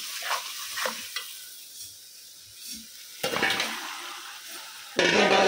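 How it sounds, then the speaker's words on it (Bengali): Meat and masala sizzling in oil in a kadai and being stirred, with scraping strokes against the pan, a quiet stretch, then a louder burst of frying hiss near the end; no talking. "এখন হলো গিয়ে মাংসটা দিয়ে দিব"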